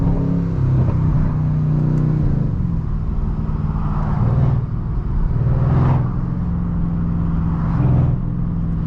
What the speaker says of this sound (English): Little throttle input. The rear wheels just keep spinning.